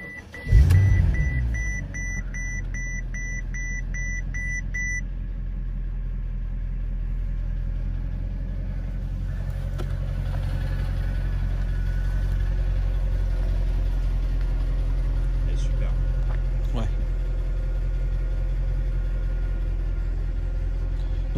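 A new car's engine cranks and catches with a sharp start, joined briefly by a repeating electronic beep, then settles into a steady low idle that continues alone and close for the rest of the clip.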